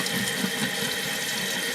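Water trickles steadily into an old toilet bowl past a worn, mushy rubber stopper, a continuous close rushing wash with no pauses.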